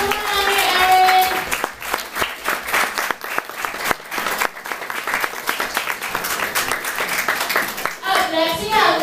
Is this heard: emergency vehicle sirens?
no